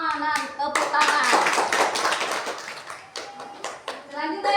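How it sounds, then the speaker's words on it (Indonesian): Classmates clap for a student group in a school classroom, with bursts of uneven, close hand claps mixed with children's voices talking over them. "Tepuk tangan"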